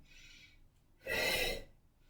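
A deep, steady exhale during a yoga vinyasa flow, a broad breathy rush lasting about half a second, close and fairly loud, preceded by a softer, airy breath.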